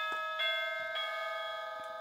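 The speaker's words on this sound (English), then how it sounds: "Now here we've got a doorbell." Electronic doorbell chime on a toy dollhouse, a few bright repeating ding tones close by and fairly soft, ringing steadily over about two seconds with no talk.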